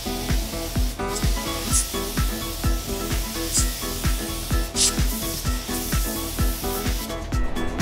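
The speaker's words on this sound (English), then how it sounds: "We got my sealer, my spacesuit. Let's hurry and get this sealed" Sealer is sprayed onto a car body being prepared for paint, a loud continuous hiss with a pulsing, rhythmic beat running underneath, heard up close.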